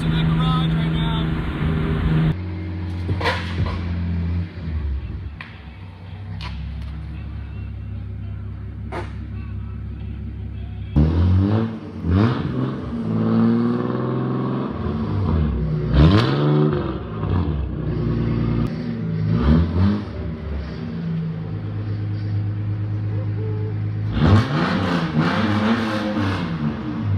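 Toyota Cressida car pulling up to a garage: a steady engine rumble with shifting, rising and falling tones as it moves, with some clunks and bumps, and someone talking over it for much of the time.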